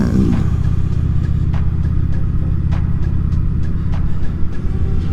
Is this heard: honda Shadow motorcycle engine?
yes